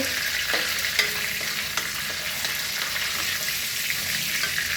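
Curry leaves, mint and fennel seeds roasting in a pan for homemade namkeen, a loud steady sizzle and crackle with scattered clicks of stirring running throughout.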